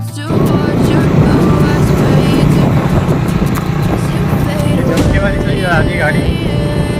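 A KTM motorcycle ridden on the road, its engine a steady rumble mixed with heavy wind buffeting, with voices talking over it throughout.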